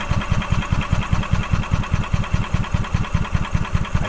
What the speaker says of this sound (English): so now I see the fuel pumping